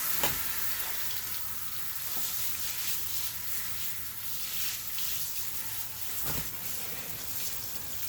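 Water sprays and rinses over tires and rims removed from a car, a steady hissing wash with a few brief splashing bursts, close and continuous.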